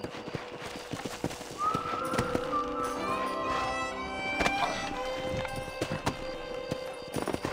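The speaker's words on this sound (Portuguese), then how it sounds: "Amarrar o cavalo, né?" In Red Dead Redemption, a horse's hooves clip-clop in a steady walking rhythm, with a whinny partway through over light ambient game sound and faint background music.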